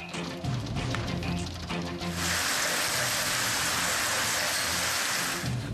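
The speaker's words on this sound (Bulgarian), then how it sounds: "Силна градушка удари София, проливният дъжд наводни улици" Heavy rain with hail lashing the streets of Sofia, a dense roaring downpour that thickens into a loud, constant hiss after a couple of seconds, close and unbroken, with no voices.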